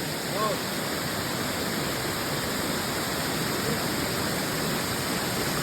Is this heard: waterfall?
yes